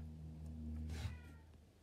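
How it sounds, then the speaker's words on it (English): A hungry cat gives a single short meow, faint and close, over a low background hum. "He was meowing, desperate for some food."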